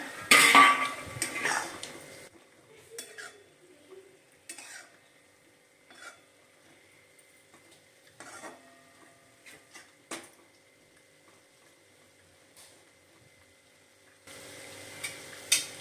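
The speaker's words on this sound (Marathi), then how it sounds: "आपण आता भाजी पलटी करूया" Shepu (dill) bhaji being stirred and flipped in a pan, with soft scraping and clinking of a spoon against the pan in scattered bursts and quiet gaps between them.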